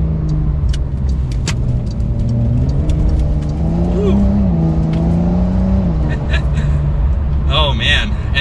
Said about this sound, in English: just a normal acceleration getting up to speed here, all the way up into eighth gear